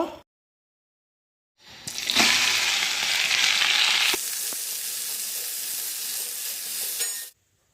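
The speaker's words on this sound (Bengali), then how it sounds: "ভেন্ডিটাকে ভেজে নেব।" Okra (bhindi) hits hot oil in a pan and bursts into a loud, bright sizzle after a moment of silence. The sizzle settles into a steady fry with occasional stirring clicks before it stops abruptly.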